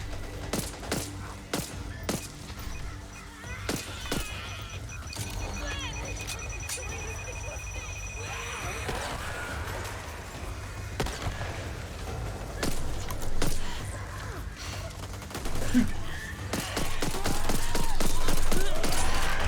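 Back 4 Blood pistol and other gunfire: many sharp shots crack throughout amid game noise, with more rapid firing toward the end and voices talking at times.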